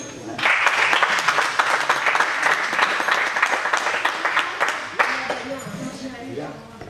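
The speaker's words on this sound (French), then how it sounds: "Donc on peut l'applaudir." Applause from the crowd at a martial arts club's end-of-season ceremony, brisk close clapping with voices mixed in, tapering off near the end.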